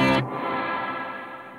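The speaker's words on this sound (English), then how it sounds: "I first hear the dry sound and then the reverb kicks in" Electric guitar run through a reverb unit with a long 200 ms pre-delay: a brief dry strike up front, then a wash of reverb blooming and sustaining for over a second, slowly fading, with no voices.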